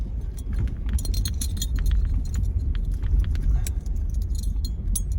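Metal dog tags jangle and clink in quick irregular bursts close by, heard alone with a low background rumble at an air force base airshow.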